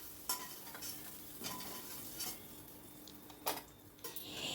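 A utensil stirs frying eggplant in a pan, faint sizzling under a few sharp scrapes and taps of metal on the pan, spaced irregularly.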